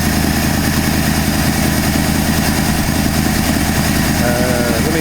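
A 1968 Ford F250 truck engine idles high with the choke off, a loud, steady, continuous rumble that stays close and unbroken throughout.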